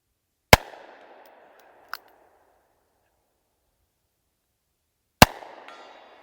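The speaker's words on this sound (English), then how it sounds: "Oh, I shot just a hair low." Taurus 460 Raging Hunter revolver fired outdoors at a range: two loud, sharp cracks several seconds apart with brief ringing tails, plus a fainter distant report in between, amid silence.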